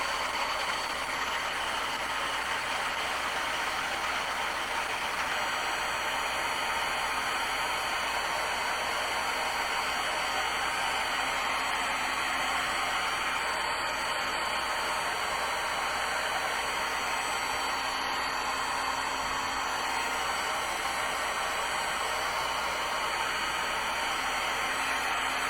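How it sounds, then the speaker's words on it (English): A heat tool blowing continuously to dry ink pressed onto paper, a steady close whooshing hum with a faint high whine, unbroken for the full length with no speech. "And I'm going to give it a quick heat"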